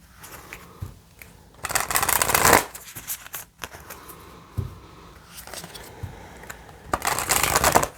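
Oracle cards are shuffled by hand in several close, loud bursts of riffling and flapping card stock, separated by quieter pauses with small taps and rustles.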